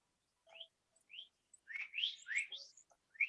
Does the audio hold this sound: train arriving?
no